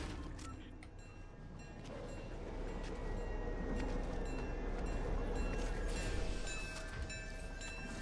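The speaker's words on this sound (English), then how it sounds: "Here comes the train." A train rumbles past in the Fortnite video game, a steady rolling roar that swells through the middle and eases near the end, with faint clatter and scattered game effects over it.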